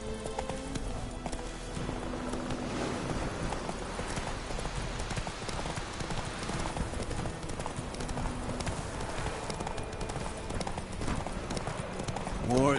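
Roach, a horse in The Witcher 3 game, gallops with steady rhythmic hoof clip-clops beneath game music and voices talking.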